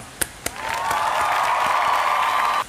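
Two sharp single claps, then a burst of steady crowd applause lasting about two seconds before it cuts off abruptly.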